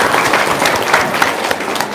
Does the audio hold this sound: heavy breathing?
no